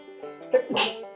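A single close sneeze bursts out sharply after a brief breathy intake, loud and abrupt against otherwise quiet backyard garden surroundings.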